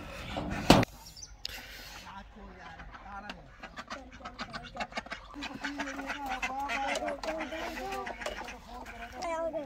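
Ducks clucking and honking inside a coop, a busy cluster of overlapping calls at moderate distance after a sharp knock near the start, with faint voices mixed in.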